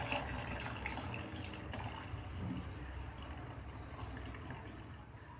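Water poured into a container while mixing a homemade liquid detergent: a continuous splashing, gurgling stream, moderately loud and close, with no talk.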